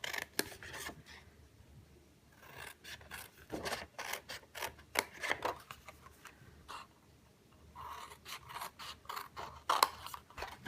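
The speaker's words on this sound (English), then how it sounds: "we're going to cut up these bottom flaps, okay? Just up to the first score" Scissors cutting up the bottom flaps of a paper treat box, heard as close, irregular snips and paper rustling in clustered bursts with quiet gaps between them.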